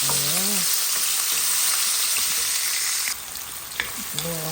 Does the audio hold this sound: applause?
no